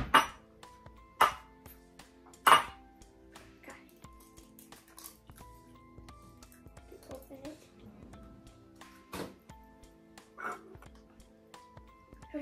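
Eggs being beaten in a bowl for a sausage breakfast casserole make sharp, irregular clinks and taps of a utensil against the bowl, with people talking throughout.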